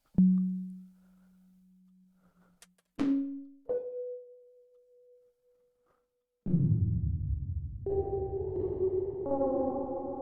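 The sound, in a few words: reverb chorus disperser audio effect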